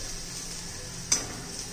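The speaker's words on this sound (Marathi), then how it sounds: "छान असं तेलामध्ये परतून घेऊया 1-अर्धा मिनिट." Homemade masala and onion-garlic masala sautéing in hot oil give a steady, soft sizzle, broken once near the end by a brief stir or clink of the spoon; no one speaks.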